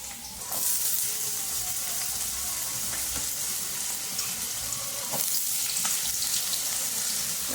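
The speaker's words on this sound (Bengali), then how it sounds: "তেলটা গরম হয়ে গেছে। এবার তেলে দিয়ে দিচ্ছি আলু।" Potato pieces hit hot oil in a wok and set off a steady, hissing sizzle that runs on loud and close throughout, with no talking.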